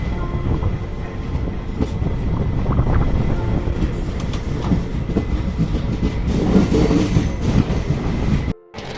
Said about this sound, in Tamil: சிதம்பரம் வந்தாச்சு. Chidambaram railway station.